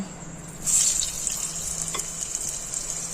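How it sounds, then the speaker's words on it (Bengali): Salted, turmeric-coated potatoes dropped into hot oil give a burst of sizzling that settles into a steady, close frying hiss with a faint clink, no talking. "আলুগুলোকে ভাজতে দেবো"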